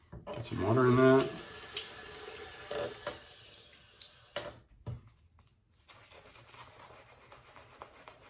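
A tap gushes loudly into a sink for a few seconds and then cuts off, followed by quieter handling noises and a faint voice.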